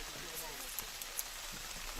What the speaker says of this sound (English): We're all hoping for the rain to at least To abate.